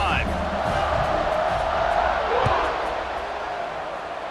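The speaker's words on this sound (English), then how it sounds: "this crowd is feeling themselves after that last drive" A stadium crowd roars in EA Sports College Football 26, a broad sustained cheer that swells and slowly fades, with a commentator's voice running over it.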